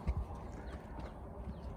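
Quarter horse foal about three and a half months old walking, with soft irregular hoof clops over a dense, noisy outdoor background, fairly faint and with no talking.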